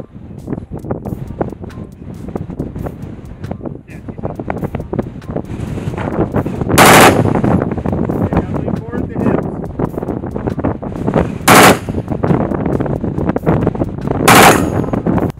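An assault-style rifle fires outdoors in full-automatic mode: loud, sharp bursts at intervals over a busy background of wind buffeting and scattered clatter, with voices nearby.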